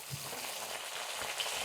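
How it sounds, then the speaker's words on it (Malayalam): Small onions fry in hot oil with a faint, steady sizzling crackle, close but quiet, with no voices. "കുറച്ച് ചെറിയ ഉള്ളി ഇട്ട് കൊടുക്കാം കേട്ടോ."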